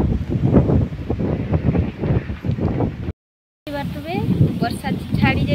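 Wind gusts sweep across a village yard just after rain has stopped, a rough, rumbling rush broken by a brief dropout, with voices talking over it and some high chirps near the end.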